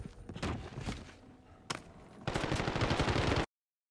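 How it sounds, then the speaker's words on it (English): Automatic gunfire with tracer rounds in Call of Duty Warzone: a few separate shots, then a sustained loud rapid burst for about a second near the end, with no talk. "Tracer rounds go off right at blue from over the wall"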